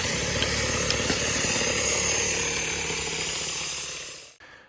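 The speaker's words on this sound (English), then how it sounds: "I'm going to be using the blower to introduce oxygen to this fire" A blower forces air into a fire in an outdoor burn pit, making a loud, steady roar that holds for about four seconds before cutting off abruptly.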